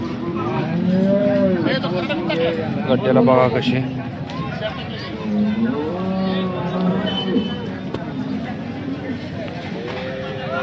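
A cow moos repeatedly, loud and close, at a bustling cattle market in Sangola, Maharashtra, with people talking throughout and some crowd noise behind.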